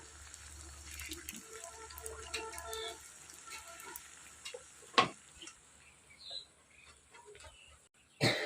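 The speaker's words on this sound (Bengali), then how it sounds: "এবার তেল গরম হয়ে গেছে, এবার এগুলো দিয়ে দেবো।" Suji pakoras frying in hot oil, giving a soft, low sizzle with faint bubbling and a few sharp clatters of utensils close by.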